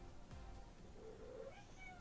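A pet cat meows once, a soft, drawn-out cry heard faintly against a quiet room hum, with no talking.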